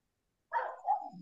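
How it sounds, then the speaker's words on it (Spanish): A small dog gives a short, fairly faint bark followed by a softer yip, heard alone after a moment of silence. "¿Quién tiene un perrito por ahí?"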